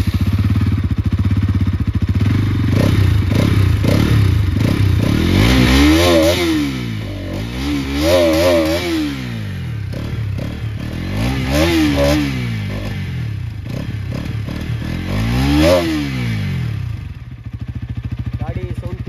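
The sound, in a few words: Bajaj Pulsar NS200 motorcycle engine started and running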